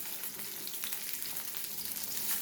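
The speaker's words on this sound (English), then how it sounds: "So flip the salmon." Salmon fillet sizzles quietly in a pan after being flipped, a faint, even frying hiss with small crackles throughout and no talking.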